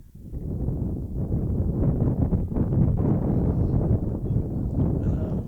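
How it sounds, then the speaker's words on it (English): A strong gust of wind blows across a coach-pitch baseball field at night, a loud, sustained rushing buffet against the microphone that builds quickly and holds for several seconds, with no talk. "And a very strong gust of wind."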